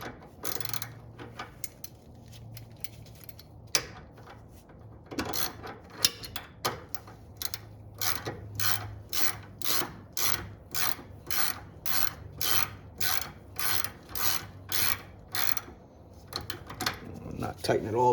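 A ratchet wrench tightening a bolt during a disc brake conversion on a 1962 Pontiac Grand Prix, a fast, regular series of close, sharp clicking strokes that builds after a few scattered clanks.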